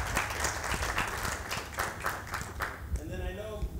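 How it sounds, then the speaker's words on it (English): An audience at a business talk gives a round of applause: scattered, uneven clapping from a modest crowd that thins out after about three seconds, as a voice starts speaking near the end. "Let's give her another round of applause."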